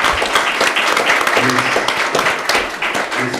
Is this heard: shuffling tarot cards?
no